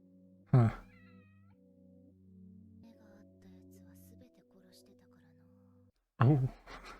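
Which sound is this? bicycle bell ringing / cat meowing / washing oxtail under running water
cat meowing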